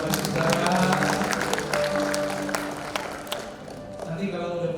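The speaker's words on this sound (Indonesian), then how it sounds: "kita kasih tepuk tangan yang paling meriah buat saudara" Wedding guests applaud at a church blessing ceremony, a dense crowd clapping with sharp individual claps over a murmur of voices, gradually thinning toward the end.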